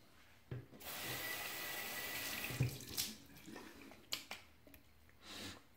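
Water runs from a bathroom sink tap as a face is dampened, a soft steady stream that starts after a short pause, with brief splashes, taps and clicks near the end as the flow is interrupted.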